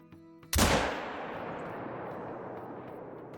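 A single rifle shot taken at a bull in theHunter: Call of the Wild, a loud, close boom with a sharp onset and a long decaying reverberant tail across the open landscape, with no talking.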